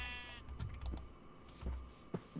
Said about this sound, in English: a perfect breeding pair of white sheep